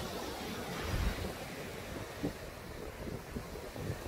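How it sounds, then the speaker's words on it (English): Strong wind blowing outdoors, buffeting the microphone as a steady loud rush with gusty bumps and no talking. "Ah, my, it's so windy."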